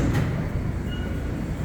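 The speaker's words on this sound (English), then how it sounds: "both these trains are going downtown" Subway trains at an underground station give a steady, loud, low rumble with faint metallic squeals, a brief continuous wash of rail noise without talking.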